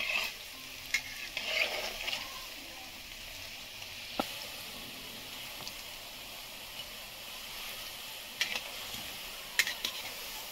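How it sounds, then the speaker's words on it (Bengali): Raw banana koftas frying in oil over medium heat, a soft continuous sizzle broken by sharp scraping clicks as the pan is stirred now and then. "মিডিয়াম আঁচে ভাজবেন, তাহলে কোপ্তাগুলো ভালো করে ফ্রাই হবে"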